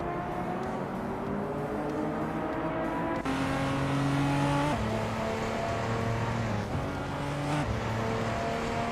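Race cars accelerate in a racing video game, engines droning steadily and stepping up through gear shifts as the revs climb, loud and continuous with no talk.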